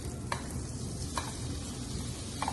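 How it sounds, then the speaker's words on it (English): Tofu scrambled in coconut oil over a high flame, a steady close sizzle with a few brief scraping stirs spaced through it. "and scrambled in coconut oil on high flames."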